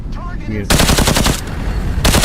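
Loud, rapid automatic gunfire from the video game Into the Radius 2, with sustained bursts of bangs after a short lead-in and a final burst at the end.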